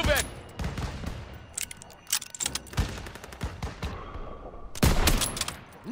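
Gunfire rattles through a Call of Duty WWII battle in a town square, with sharp shots and bursts scattered irregularly across the stretch, some loud and close, mixed with shouted game voices.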